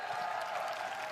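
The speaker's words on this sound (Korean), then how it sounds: "우리 도종환 의원님께 큰 박수 부탁드립니다." Crowd applause at a presidential campaign rally in Cheongju, a brief, steady wash of distant clapping from a large outdoor audience, heard alone without speech.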